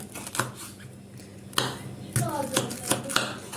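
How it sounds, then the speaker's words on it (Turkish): Knife slicing kapia peppers into strips on a cutting board, a handful of crisp, irregular cuts and taps up close, with quiet gaps between them. "Şöyle biberlerimi ortadan ikiye kestikten sonra şeritler halinde kesiyorum."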